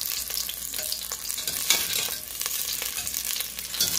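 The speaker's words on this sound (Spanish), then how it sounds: "Y vamos a poner que se sofría ahí" Half a small onion and garlic fry in hot oil in a pan, a steady close sizzle with crackling pops throughout and no voices.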